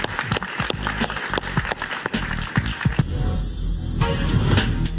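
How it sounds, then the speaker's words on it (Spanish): A television studio audience applauds for a Peruvian congressman guest on a talk show, with a fairly loud patter of clapping and rhythmic thumps that becomes a denser, steadier roar near the end. "Un aplauso para él."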